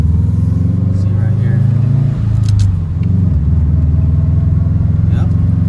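A Subaru STI with Brembo brakes rumbles along on a test drive, its low engine drone steady and close throughout, with a brief dip in the middle, while people talk over it inside the car.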